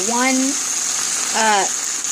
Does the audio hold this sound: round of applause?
no